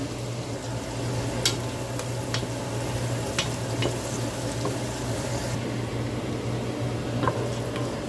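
Onion, garlic and ginger sauté in a pan with a dense, constant sizzle and crackle, dotted by small sharp pops and light scrapes throughout.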